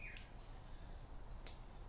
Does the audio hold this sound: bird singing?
yes